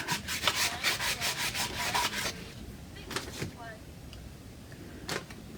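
Wax is rubbed by hand onto a DIY lamp in quick, rhythmic scrubbing strokes, then slower, scattered rubs as a person talks.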